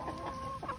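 Red hens cluck softly and briefly while pecking at salad greens, heard close up in a short burst.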